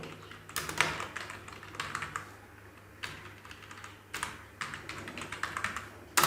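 Typing on a computer keyboard in bursts of quick, close key clicks separated by short pauses, fairly quiet, with no speech over it.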